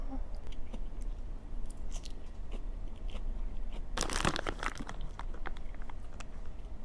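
Close, quiet chewing while eating a boiled egg with leftover sweet potato: soft wet mouth sounds throughout, with a sharper burst of crunchy, crinkly noise midway.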